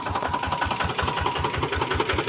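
A palay rice grain dryer machine runs steadily nearby, a continuous mechanical drone with a fast, regular pulsing thump and a faint whine over it, loud and unbroken with no talk.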